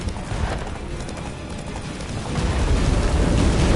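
Roach, a horse in The Witcher 3, galloping hard with a steady thudding hoofbeat rhythm under a dense roar of wind and blizzard noise that swells louder toward the end.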